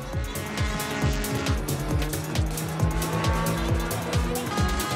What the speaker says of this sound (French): Ils ont ramené des Formule 1.